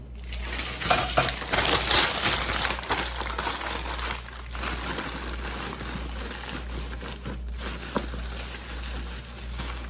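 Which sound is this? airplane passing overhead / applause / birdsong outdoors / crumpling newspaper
crumpling newspaper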